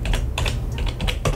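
Rapid typing on a computer keyboard while a graphic is assembled, with uneven bursts of close, crisp key clicks and no talking.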